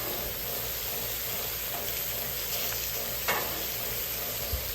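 Thick-cut bacon sizzling on a Camp Chef griddle, a steady dense crackle and hiss filling the whole stretch with a few brief pops, close and continuous with no talking.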